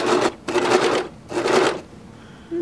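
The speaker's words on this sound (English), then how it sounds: "the serger cuts off the edge at the same time it stitches" A serger overlocker stitches and trims a fabric edge in two bursts of fast whirring, loud and close, with short pauses between them and a brief click at the end.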